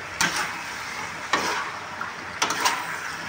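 Petai being stirred in a sizzling frying pan, with three scraping strokes of a utensil against the pan over a steady frying hiss, close and clear.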